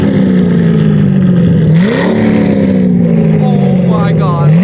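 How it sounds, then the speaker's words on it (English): A straight-piped JDM Corvette engine revs loud and close, a sustained low roar that rises sharply in pitch and then sinks back down, with a few people talking faintly over it. "Okay, I'm gonna let JJ do the honors for revving it because I'm trying to hear this thing on the outside."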